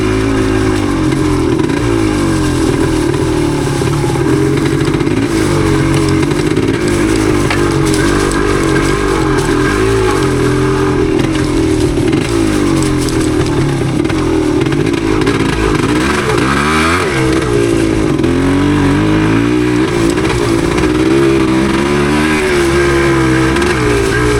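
A 1977 Yamaha DT250 two-stroke trail motorcycle rides through the woods, its engine droning loud and close for the whole stretch, rising and falling with throttle changes and one brief dip near the middle.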